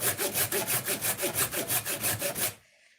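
Hand saw cutting through knotty fatwood (resinous pine), steady rhythmic back-and-forth strokes about four per second, close and loud, stopping abruptly near the end into quiet.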